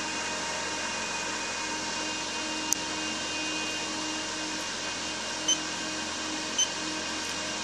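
Computer case fans on a Lamptron CM615 fan controller running at full speed, 2640 RPM, giving a steady, even whir with constant broadband hiss and faint tonal hum, continuous and unchanging throughout with a couple of tiny clicks.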